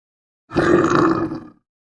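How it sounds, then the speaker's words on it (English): A single deep, rough growl lasting about a second, close and loud, standing alone in silence. "Bear says,"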